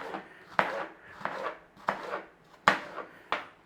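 A knife finely dicing onion on a board, six or seven sharp, close chopping knocks spaced unevenly, each with a short scraping tail, no talking.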